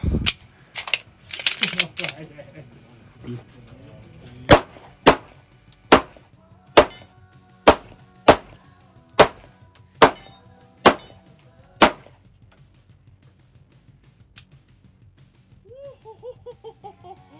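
Shadow Systems MR920 pistol with a magazine extension fired at targets: ten sharp, loud shots in a steady, evenly spaced string, preceded by a quick burst of clattering impacts, then brief speech.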